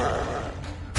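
A Flipendo spell cast in the Hogwarts Legacy video game gives a short, dense whooshing rush of noise that ends in a sharp, louder burst.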